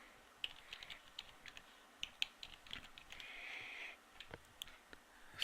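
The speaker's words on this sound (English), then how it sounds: "Type in our domain name, password protected," Fingers type a domain name on a computer keyboard, giving a brief uneven patter of soft key clicks up close with a short hiss in the middle.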